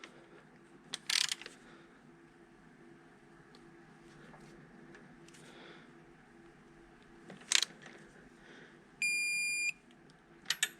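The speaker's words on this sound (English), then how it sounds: "you're going to torque these to 30 foot-pounds" A torque wrench with a crow's foot tightens Duramax diesel injector hardware: a few sharp, isolated ratchet clicks are spaced apart in a quiet room, with a short electronic beep near the end.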